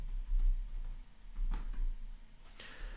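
Fingers typing on a computer keyboard in a quick irregular patter of close key clicks, heard alone with no talking.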